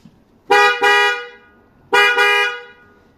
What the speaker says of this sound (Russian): Сигналят вот так.